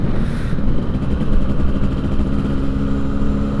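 Yamaha RX King two-stroke motorcycle running while ridden, a loud, steady close-up engine drone with a buzzy vibrating tone that holds throughout without breaks.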